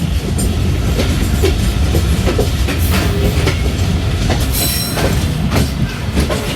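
The 36DN Sir Syed Express rolls into the platform at Khanewal Junction, a loud, steady rumble with clickety-clack wheel beats and occasional squeals from the rails.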